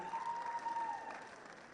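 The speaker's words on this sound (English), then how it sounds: "A round of applause for their representative." Audience applause at a Model United Nations conference for a girls' academy representative, a moderate, steady clatter of clapping that thins slightly toward the end, with a faint tone running underneath.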